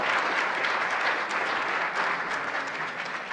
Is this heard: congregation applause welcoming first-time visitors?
yes